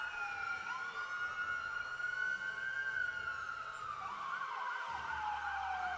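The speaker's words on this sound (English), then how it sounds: "this is emergency medical services coming out last here, George, or is this the fire department?" An Elmira Fire Department emergency vehicle's wailing siren sweeps up and down continuously, loud and close, with a low engine rumble beneath it.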